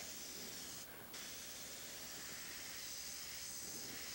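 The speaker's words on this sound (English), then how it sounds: "This is where you start getting a little bit freer in your spraying" An airbrush sprays black paint onto canvas, a steady, close, continuous hiss that holds for the whole stretch, with a brief dip in the spray partway through and no talk.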